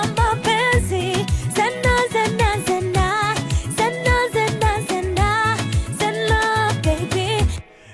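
A song with African-style lead vocals is drenched in reverb, the sung lines over a steady rhythmic backing with punchy low beats, loud and continuous before cutting off abruptly near the end.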